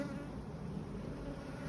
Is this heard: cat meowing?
no